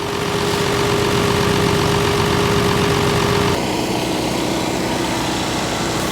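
A tractor's motor runs steadily close to the microphone, a constant loud mechanical drone with a strong hum that shifts slightly in tone partway through and keeps going without pause.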